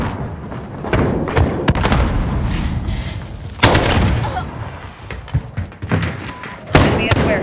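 In Call of Duty: Modern Warfare multiplayer, a grenade explodes with a heavy booming thud partway through, amid scattered gunshots, thumps and some voice chatter.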